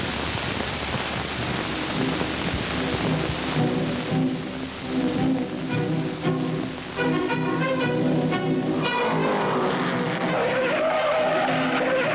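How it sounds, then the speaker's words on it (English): A 1960s stock car race with a car breaking loose and spinning out, a roaring engine and broad tire-skid hiss, rising and falling with a brief dip, heard under a rushing crowd-like wash. "Spins out in number 73."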